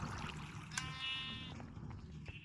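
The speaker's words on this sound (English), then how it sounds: "this system here, the sheep farm" A single sheep bleats once at an automated sheep farm in Minecraft, a short wavering game sound effect over faint background noise.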